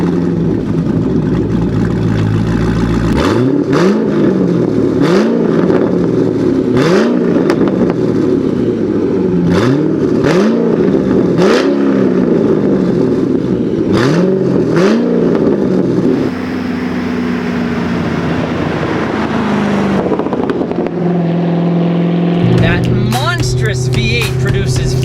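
A C6 Corvette Z06 with its 7.0-litre LS7 V8 and deleted mufflers revs repeatedly, loud and close, each rise and fall in a steady rhythm before settling into a lower drone and an idle burble.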